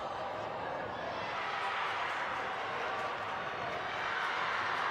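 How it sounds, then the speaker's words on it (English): About fifty Tunbridge Wells Grammar School fans make a loud, continuous roar at an under-13 schools' cup football match, with a commentator talking over the steady crowd noise. "Cheering every pass and every touch that the Tunbridge Wells team gets"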